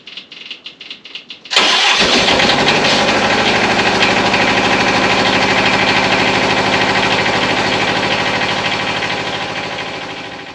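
A diesel tractor with glow plugs and a newly replaced battery cranks with a rapid chugging starter for about a second and a half, then catches and roars into a loud, steady rattling idle that slowly eases; no talking.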